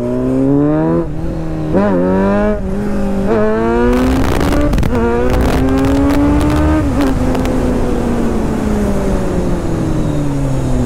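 A superbike motorcycle accelerates in a loud, continuous engine roar that climbs in pitch and drops back through several gear changes, recorded close up with no talk.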